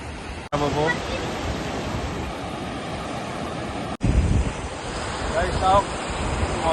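Ocean surf rolling onto a beach in Goa, a steady broadband wash with wind buffeting the microphone, two abrupt cuts in the recording, and faint voices now and then beneath the roar.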